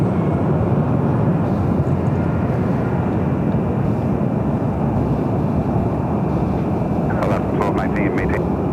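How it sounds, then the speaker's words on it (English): An Asiana Airbus A380 airliner on approach to runway 24 left at Los Angeles airport, a loud, continuous broad roar that fills the whole stretch, with a brief burst of voices near the end. "A380 Super getting closer to 24 left"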